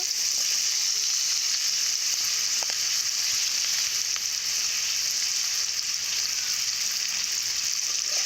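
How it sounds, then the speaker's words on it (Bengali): Thin-cut potato strips fry in hot mustard oil, giving a steady, loud, even sizzle that fills the whole stretch with no talk and only faint occasional clicks. "দু মিনিটের মতো আলুটাকে ভেজে নেব।"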